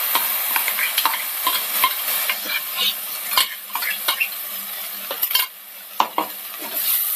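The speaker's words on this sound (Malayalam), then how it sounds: "ഒന്ന് മിക്സ് ചെയ്യാം." Ground onion paste is stirred into spice powders frying in a pan for white chickpea curry. Close, repeated spatula scrapes and clinks ride over a steady sizzle.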